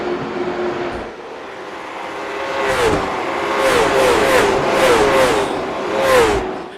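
Late model race cars racing at Kern County Raceway, engines revving and shifting as several cars roar past nearby in waves, the pitch rising and falling with each pass.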